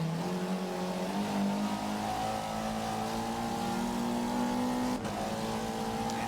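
A race car engine revving at redline in a Dubai circuit racing video game, a sustained high-pitched drone that climbs gradually and holds steady, briefly dipping near the end.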